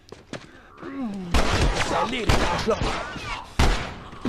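Sharp gunshot bursts in The Last of Us crack out several times over excited shouting in German, with sudden loud impacts between stretches of frantic speech.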